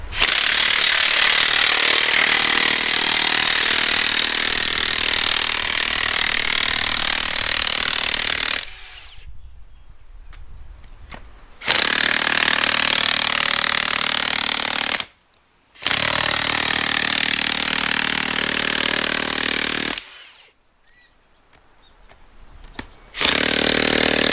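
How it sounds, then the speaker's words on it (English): Makita power tool driving a 100 mm earth auger into the ground, a loud, harsh, continuous grinding drone in three long bursts separated by short pauses of quieter idle and silence. "that worked pretty good with the 100 mil auger"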